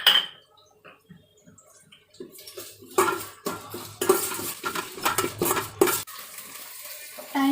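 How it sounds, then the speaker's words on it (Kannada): A metal spoon clinks and scrapes against a pan as cashews and ginger garlic paste go in, irregular close clatters over a soft background sizzle. "ಇವಾಗ ಗೋಡಂಬಿ ಹಾಕ್ತಾ ಇದ್ದೀನಿ. ಜಿಂಜರ್ ಗಾರ್ಲಿಕ್ ಪೇಸ್ಟ್ ಹಾಕ್ಕೊತಾ ಇದ್ದೀನಿ 1 ಸ್ಪೂನು."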